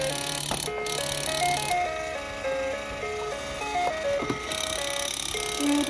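Electronic tune from a toy claw machine, bright beeping melody notes stepping quickly as the music speeds up, close and clear with no talking over it.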